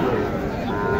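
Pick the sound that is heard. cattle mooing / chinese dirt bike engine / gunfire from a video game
cattle mooing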